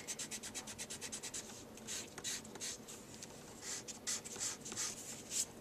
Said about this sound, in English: I'm going to take my pencil because I don't want these pencil lines on here. Let's just erase them out.